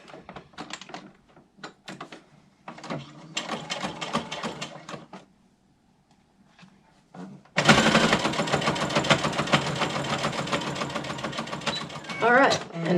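Short bursts of handling and stops precede a long, loud, steady run of a sewing machine stitching a fabric face mask, its close rapid mechanical clatter continuing to the end, with a person speaking early on.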